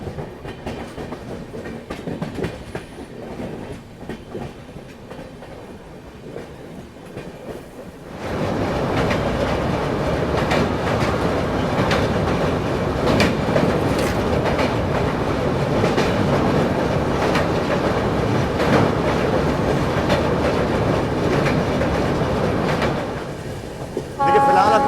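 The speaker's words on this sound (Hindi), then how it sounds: "ट्रेन बुधनी घाट से होकर गुजर रही है।" The Tirupati Jammu Tawi Humsafar Express runs at night through the Budhni ghat section, a steady loud rumble and rattle of rail cars heard from inside, swelling after a quieter opening stretch.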